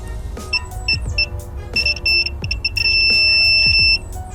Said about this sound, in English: when we touch these, we should get continuity, we should hear the beep.